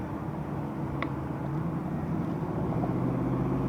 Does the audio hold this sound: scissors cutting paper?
no